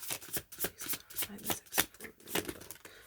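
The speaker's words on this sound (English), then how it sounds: "Okay, one more shuffle, then I'm gonna start pulling." Tarot cards being shuffled by hand, a run of quick riffling bursts and soft slaps repeating in an uneven rhythm, close and clear, with no talking.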